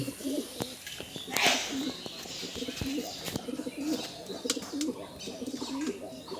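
A pet pigeon at a home loft coos in soft, repeated rolling phrases, close by and fairly quiet, with a few faint chirps and brief rustles around it.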